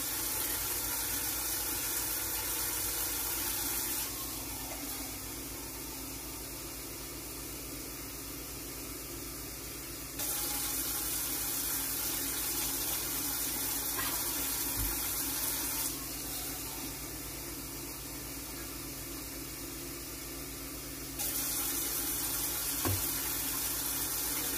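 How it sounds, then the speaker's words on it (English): Tap water runs steadily into a pot in a home kitchen during tamale prep, a constant hissing stream with slight level shifts as the flow changes. "let me go ahead and add some water"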